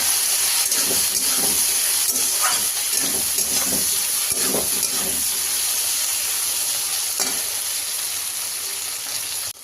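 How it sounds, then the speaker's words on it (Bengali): Okra fries in oil with salt and turmeric, a loud, close, unbroken sizzle with scattered stirring scrapes over roughly ten seconds and no speech. "ভেন্ডির মধ্যে এখন একটু নুন, হলুদ গুঁড়ো দিয়ে ভালো করে ভেজে নেব"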